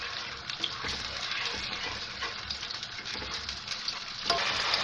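Steady, close sizzling of onion paste frying in hot oil, a continuous crackling hiss with occasional stirring scrapes.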